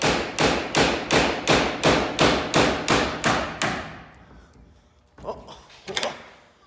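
Hammer blows on a part of a 1972 Toyota Land Cruiser FJ40, about a dozen loud, close, evenly paced metallic strikes in quick succession, then quieter clatter and a couple of softer knocks.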